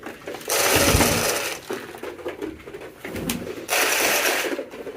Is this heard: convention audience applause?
no